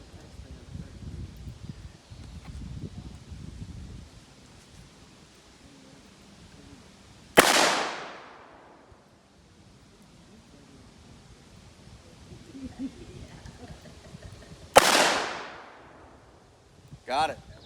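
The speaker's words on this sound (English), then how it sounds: "I'm going to shoot the 38 special. Okay, it's got some hollow point ammunition in it." Two sharp, loud gunshots from a .38 Special revolver loaded with hollow point ammunition, fired at cans outdoors several seconds apart, each with a decaying tail, over soft wind and rustling.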